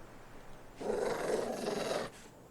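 A dog in the video game Fallout 4 lets out a single sustained low growl lasting about a second, loud and close, after a quiet start, then fades back to faint background.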